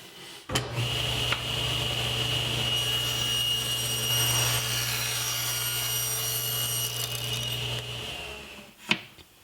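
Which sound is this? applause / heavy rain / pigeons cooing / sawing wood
sawing wood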